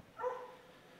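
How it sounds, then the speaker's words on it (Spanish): A single short dog bark comes from a street near a house, moderately distant and somewhat muffled against quiet background noise. "Sí, hay perros."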